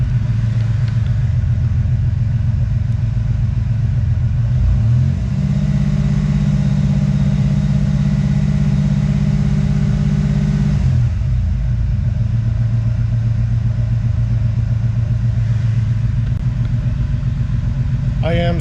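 A car engine idles steadily through a cold start, running rich, with a low, continuous rumble and a brief dip in the idle partway through.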